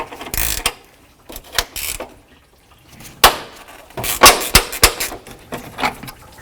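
A 10mm wrench loosens a bolt on a Jeep Cherokee, making close, sharp metallic clicks and ratcheting bursts at irregular intervals, separated by short quiet gaps.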